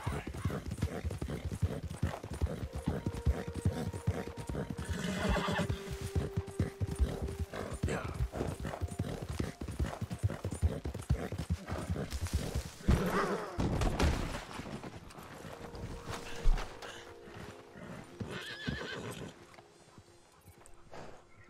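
Horse hooves clip-clop steadily in Red Dead Redemption 2, with occasional whinnies and neighs from a nearby horse over ambient game sounds and music.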